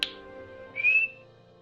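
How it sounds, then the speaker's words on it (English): A sharp click is followed by a single short, high rising whistle, a synthetic click-and-whistle pattern encoding a letter in the style of a dolphin signature whistle. "A dot means a click. A line means a whistle."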